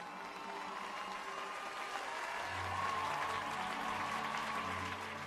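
Applause and cheering for a fan's magical achievement sound as a soft, steady patter of clapping from a distant crowd, continuous for several seconds with a faint low hum beneath.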